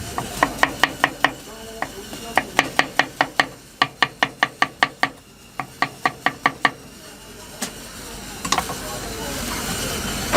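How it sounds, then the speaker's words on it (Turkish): Knife chopping onions fast on a board at a Hatay street köfte stall, a run of sharp, evenly spaced knocks in bursts with brief pauses, close and loud over faint kitchen hiss. "soğanımızı anında kıyarız"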